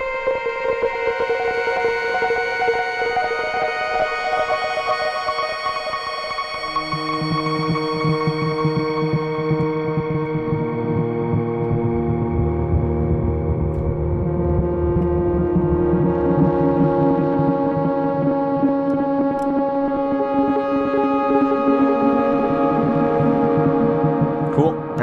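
An Arturia Synthi V synthesizer plays sustained, droning tones that shift and layer over time, washed in delay echoes and reverb, steady and loud with no talking.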